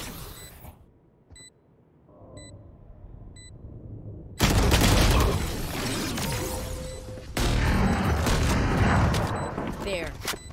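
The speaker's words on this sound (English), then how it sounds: "Flashbang." A flashbang grenade bursts in Valorant, a sudden loud broadband blast that cuts off a quiet stretch, followed by sustained noisy gameplay with a second burst later, with voices talking over parts of it.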